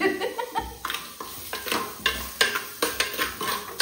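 Onion pieces fry in a pan and are stirred, with a soft sizzle beneath repeated scraping and clinking strokes of a utensil against the pan, close and rhythmic.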